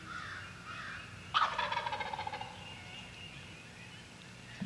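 An eastern wild turkey gobbles once in spring at mating season, a sudden rattling burst of rapid pulses that fades out, fairly distant against quiet morning background.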